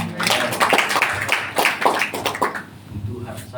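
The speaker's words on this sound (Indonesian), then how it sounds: "Tepuk tangan buat Tuhan." Church congregation clapping during a Sunday worship service, a dense burst of many hands applauding together that carries on for several seconds, loud and close, then thins out toward the end.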